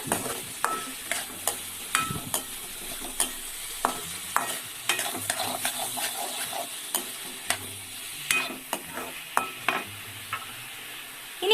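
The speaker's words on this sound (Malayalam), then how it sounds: "നമ്മുടെ ചേമ്പിൻ്റെ താളും കൂടി ഇതിൻ്റെ ഒപ്പം ആഡ് ചെയ്യാം നന്നായിട്ടൊന്ന് വഴറ്റിയെടുക്കേണ്ടതുണ്ട്" Taro leaves being stirred and sautéed in a pan with onion for Ulli Theeyal. A soft sizzle runs underneath, broken by repeated sharp scrapes and knocks of a spoon against the pan, close and steady with no voices.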